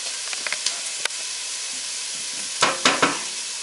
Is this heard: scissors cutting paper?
no